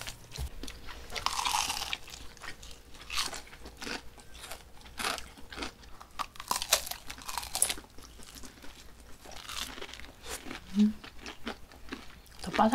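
Close, quiet crunching of crispy fried food, such as fried chicken, during a Korean eating session, with steady irregular bites and chewing throughout.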